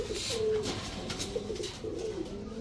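A Basiraj kokka pigeon, a male, coos close by in a few soft, rounded, wavering calls over light background noise.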